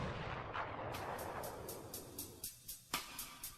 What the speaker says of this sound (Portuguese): Os projéteis disparados por esta arma imitam os detritos de um cometa viajando a velocidades letais.